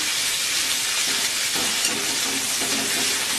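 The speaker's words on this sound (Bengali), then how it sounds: "এবার দিয়ে দিচ্ছি পেঁয়াজ কুচি।" Chopped onion hits hot oil in a pan with a loud, dense, continuous sizzle and hiss, close up and unbroken, with faint stirring movements underneath.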